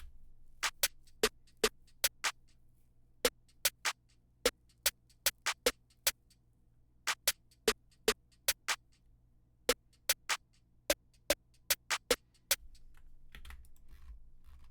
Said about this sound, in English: now both of the snares together sound like this